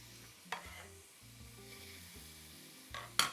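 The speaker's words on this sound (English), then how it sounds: "We're gonna let this cook until those onions slightly soften." Onion frying in melted lard in a large pot over medium heat makes a steady, soft sizzle under repeated stirring scrapes, with a couple of sharper utensil clinks against the pot and no voices.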